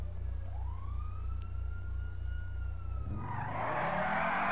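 A police car siren in GTA wails steadily with a low engine rumble, then gives way to a rising, noisy surge near the end.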